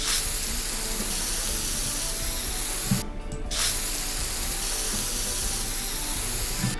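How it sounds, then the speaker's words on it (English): The Sims 4 video game plays its spray paint effect, a loud, continuous hissing spray that cuts out briefly near the middle and then resumes with no talk. "I wonder if it's catching the spray paint sounds."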